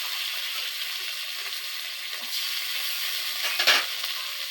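Poppy seed paste goes into spices frying in a pan, a continuous loud sizzle with a brief sharper hiss and splutter near the end.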